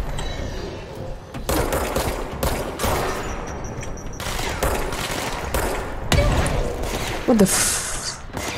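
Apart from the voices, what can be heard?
enemy grenade explosion in the video game Control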